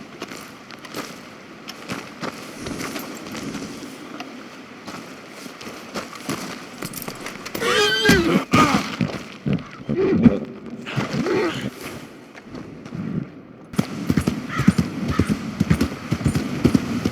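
Horse in the Red Dead Redemption 2 game clopping its hooves in uneven steps, with a loud whinny partway through over ambient outdoor game sound, close and moderately loud.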